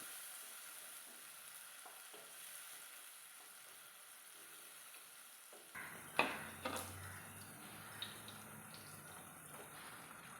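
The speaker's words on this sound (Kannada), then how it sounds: "ಇವಾಗ ಇದನ್ನು ಸ್ವಲ್ಪ ಹೊತ್ತು ಫ್ರೈ ಮಾಡ್ಕೊಳ್ಳಿ" Chopped tomato in a pan, quiet at first, then louder sizzling and stirring with clinks of a spoon against the pan in the second half, no talk.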